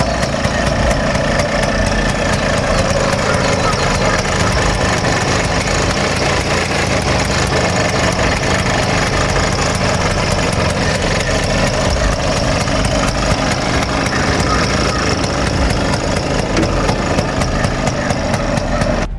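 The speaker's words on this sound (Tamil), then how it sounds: "இனி நாங்கள் பார்க்க போகிறது ஆட்டோ ஸ்டார்ட் பண்ணி அதன் இன்ஜின் பகுதியை பார்ப்போம்." A Bajaj RE two-stroke auto rickshaw engine idles loudly and steadily up close, a continuous rattling, vibrating drone with no talk.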